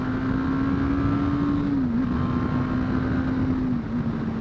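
A 2023 BMW G 310 GS motorcycle accelerates on a highway, a loud, steady single-cylinder engine drone holding a constant pitch with a slight dip near two seconds, wind rush underneath, no talk.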